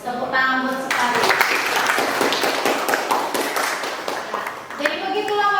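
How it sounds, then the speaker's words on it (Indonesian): Students in a chemistry classroom clap for a classmate, a burst of quick, dense hand claps in the middle with a voice speaking before and after. "Tepuk tangan buat si Farid"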